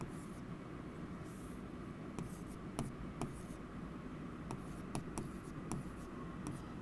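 Marker or chalk writing on a classroom board, faint scattered scratching strokes and light taps over a quiet room hum, with no talk over it.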